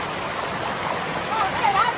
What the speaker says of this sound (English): Waterfall, the waterfall looking nice.